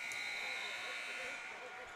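End-of-quarter buzzer at a high school boys basketball game, Edcouch Elsa vs Brownsville Veterans, a faint, steady electronic tone held for about two seconds over a wash of gym crowd noise.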